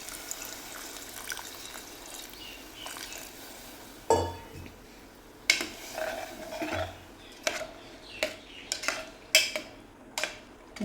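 Water is poured into a pressure cooker pot of soaked black chickpeas, with a steady quiet stream followed by several clinks and taps of metal kitchenware.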